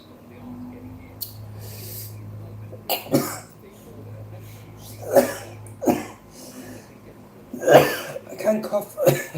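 A person coughs several times in short separate bursts, each a harsh chesty hack, near and fairly loud, with a low steady hum underneath and quiet pauses between.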